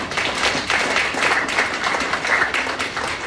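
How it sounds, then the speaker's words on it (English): Steady applause from a community audience at a legislative coffee meeting, dense clapping at a constant moderate level throughout with no break. "I think everybody should give themselves a round of applause."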